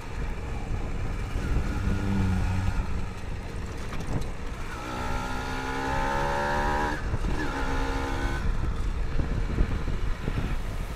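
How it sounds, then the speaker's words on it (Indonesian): Kawasaki Ninja R motorcycle from 2007, its engine running steadily with a honking intake and air-filter noise and rising revs, heard up close and continuous with no talk. "Suara knalpotnya nggak kedengeran, malah jadi suara ngok-ngokan tuh filter."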